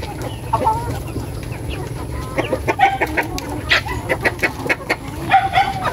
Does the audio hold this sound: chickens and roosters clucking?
yes